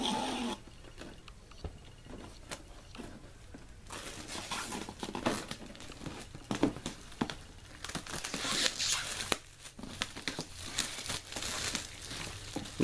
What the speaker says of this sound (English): Let's go ahead and take this plastic off.